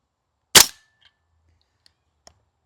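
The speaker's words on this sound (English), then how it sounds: "I'm going to kill off the rest of the mag and we'll see what kind of deviation we have for the entire thing." Classic Army URGI MK16 gas blowback airsoft rifle fires one sharp, loud, close shot with a quick mechanical clack, followed by faint small ticks in an otherwise quiet space.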